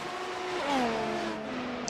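F1 race cars tear past on the Interlagos circuit in a racing game, engine notes sweeping down in pitch as they pass close by, a loud continuous whine with no talk.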